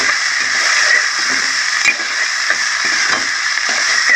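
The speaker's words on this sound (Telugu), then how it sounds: "ఇందులో అల్లం వెల్లుల్లి పేస్ట్ వేసేసుకున్నాను ఇది మొత్తం కలిపి ఇది బాగా ఫ్రై అవ్వాలి" Ginger garlic paste frying in a pan for a fish curry, a steady close sizzle with faint stirring scrapes running throughout, no voices.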